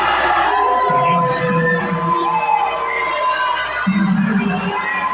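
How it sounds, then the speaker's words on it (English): Marauder football fans in the stands boo a referee's call, a loud sustained crowd roar of jeers and yells, swelling again near the end. "And the Marauder fans are booing him for it."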